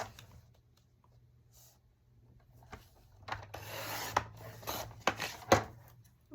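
Scissors cutting a paper file folder, a few soft snips and rasping rubs clustered toward the end over a quiet background hum.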